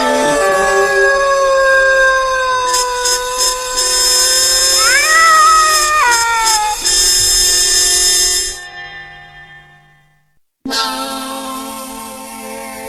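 Cartoon cat from the Doraemon series meowing in a long, wavering, whiny call with rising and falling pitch over background music, then a brief silence before music resumes.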